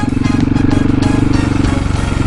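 Motorcycle, a 701, revving hard in second gear during wheelie practice, a loud close engine drone with a rapid pulsing beat and steady throttle; no speech.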